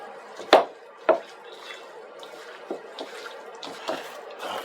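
A hand squishes beef through a cornstarch and baking powder marinade, giving a few wet slaps and squelches, two sharp ones early then softer irregular ones, close and fairly quiet.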